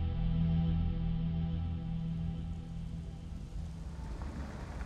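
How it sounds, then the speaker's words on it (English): Steady rain falls during a hurricane, a continuous dense hiss that stays loud and even throughout with a low rumble beneath it. "So it just keeps raining."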